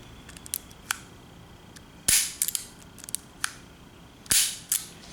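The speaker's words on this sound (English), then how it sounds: "Can you hear the grinding?" Revolver triggers on Smith & Wesson and Taurus guns are pulled back, giving sharp mechanical clicks and short gritty rasps in irregular clusters, close and fairly quiet, with two louder snaps standing out.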